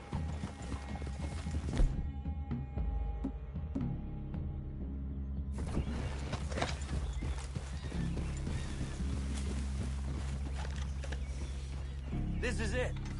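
Horses in a video game, with clip-clopping hooves and a whinny heard beneath steady game music and ambience, loud and continuous across the scene.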